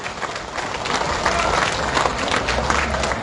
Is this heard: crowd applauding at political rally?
yes